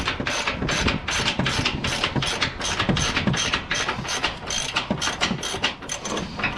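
A hand ratchet tightening a bolt on the upper control arm of a 2009 Ram 1500 2WD, giving a steady run of fast, close metallic clicks that continues through the whole stretch with no talk.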